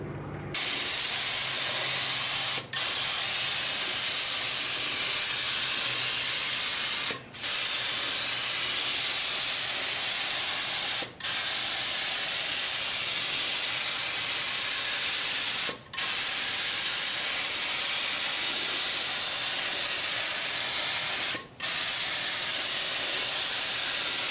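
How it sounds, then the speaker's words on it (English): Spray gun hissing green paint onto an aluminum plate, a steady loud continuous spray broken by four or five short pauses between passes. "I am ready to spray green now."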